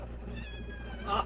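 A cat inside a van at mealtime gives a short, drawn-out meow at close range, over a low constant background hum.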